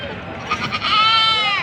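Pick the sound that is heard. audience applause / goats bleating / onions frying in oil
goats bleating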